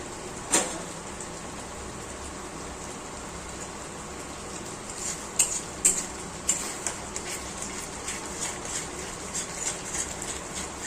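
Spice masala sizzles steadily in a pan after sugar and garam masala go in, a continuous hiss with a few sharp clicks and scrapes scattered through, no voices.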